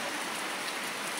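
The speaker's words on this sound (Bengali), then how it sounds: "বাইরে প্রচুর বৃষ্টি পড়তেছে।" Heavy rain pours down outdoors as a dense, even hiss that holds steady for the whole stretch, with no voices over it.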